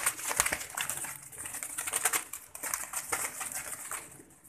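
Pigeons kept in a backyard loft, a mated pair among about ten birds, make a dense, fairly quiet run of scratchy fluttering and clicking with no voices.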